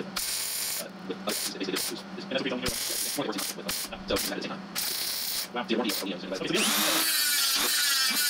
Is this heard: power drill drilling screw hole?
yes